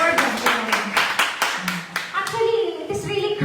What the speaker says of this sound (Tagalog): Palakpak ulit kay Lord